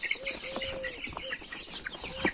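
Broiler chicks in a homemade cage give a continuous run of close, overlapping peeps and chirps, some rising and falling, with a louder burst near the end.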